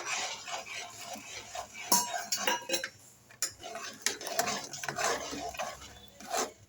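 Jaggery is stirred into moong dal payasam in a pot. A spoon scrapes and clinks against the vessel in quick, uneven strokes, close and moderately loud, with brief pauses between bursts.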